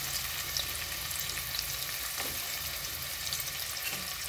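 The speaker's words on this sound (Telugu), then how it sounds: "ఇలా తిప్పుకుంటూ బ్రౌన్ కలర్, బాగా థిక్ బ్రౌన్ కలర్ వచ్చే వరకు వీటిని వేయించుకోవాలి." Sliced onions fry in melted ghee for biryani, giving a steady, even sizzle with faint stirring scrapes, heard close and alone without any voices.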